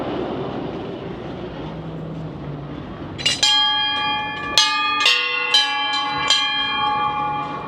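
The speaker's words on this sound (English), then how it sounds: "you can ring some Swiss bells if you want to do." Swiss bells are rung by hand at Europa-Park, several bright metallic strikes with long ringing overtones following a stretch of muffled crowd and ambient noise, each clang close and loud with sustained resonance.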